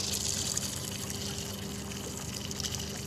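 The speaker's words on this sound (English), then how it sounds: "Shooting a strong stream of water out the check valve." A steady rushing stream of water spraying continuously from the check valve of an idling outboard motor on a 2018 Sun Tracker Bass Buggy 16 boat, with a low engine hum underneath.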